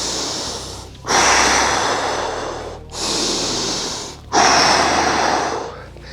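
Heavy breathing follows a bodyweight strength workout: three or four long, loud, close rasping breaths, each a drawn-out inhale or exhale separated by brief pauses.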